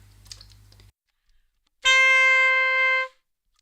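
A saxophone sounds one sustained, harsh, buzzy note without vibrato, held for about a second. It comes in close and loud after a short quiet stretch with faint clicks.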